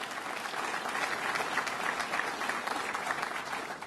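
A crowd at a Lake Placid campaign event gives a round of applause, steady, dense clapping held at an even level for several seconds.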